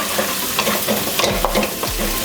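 Egg scrambling in a hot pan for pad see ew gives a loud, continuous sizzle, with a utensil stirring and scraping close up throughout and no talking.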